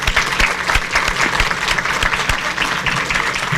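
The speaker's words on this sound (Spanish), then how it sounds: "quiero pedirles un aplauso muy fuerte" Audience at a forum inauguration gives loud, sustained applause, dense and close clapping with no talk over it.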